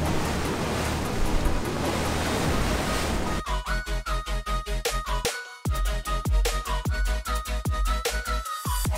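Wind and spray roar during a fast boat ride on a windy day, a dense steady rush followed by rhythmic hull slaps against waves, with no talk.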